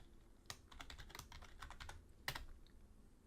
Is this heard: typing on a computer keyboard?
yes